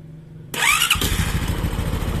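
A Honda Supra X 125 carbureted motorcycle engine starts abruptly and settles into a close, steady, throbbing idle with no voices.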